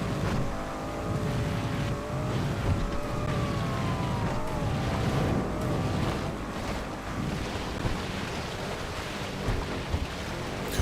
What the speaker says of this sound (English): Listen to that exhaust note. That is an awesome exhaust note.